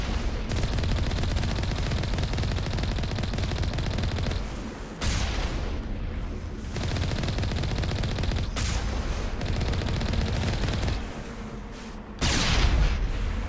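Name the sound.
bullets and cannon fire in Mass Effect video game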